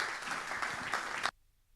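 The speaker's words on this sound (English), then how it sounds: "So, the warmest applause for our keynote speaker, Excellency Sheikh Mansour." An audience at a summit applauds a keynote speaker, a brief full burst of many hands clapping that stops abruptly after just over a second.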